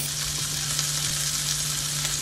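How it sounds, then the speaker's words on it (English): Sausages fry in a pan outdoors during a -17 degree blizzard. A loud, dense, continuous sizzle carries a faint steady hum under it and no talking. "We're gonna turn the sausages over to a small simmer."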